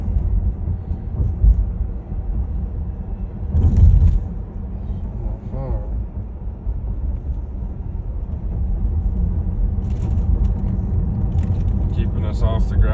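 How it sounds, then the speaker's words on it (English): Inside a Tesla on Full Self Driving through a construction zone with cones and a temporary lane, a steady low road and cabin rumble continues throughout, with occasional brief bumps and a voice speaking over it. "it's driving us right down the temporary lane pretty well."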